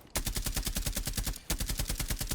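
Suppressed UMP submachine gun with a vertical grip firing in Rainbow Six Siege, used by the operator Castle. Two long strings of rapid, evenly spaced automatic shots ring out close and loud, with a brief break between them and no talking.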